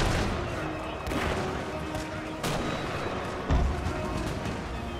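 Video game artillery firing canister shot: several sharp, loud booms at irregular intervals over a rumbling battle din, with voices speaking throughout.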